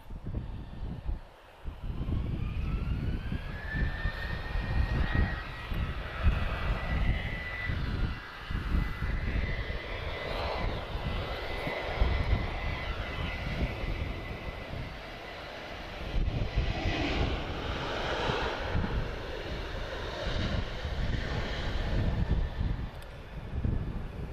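A Boeing 777 arrives at Lisbon Airport, its steady broadband engine roar loud and sustained with a rising whine, continuous throughout and no talking.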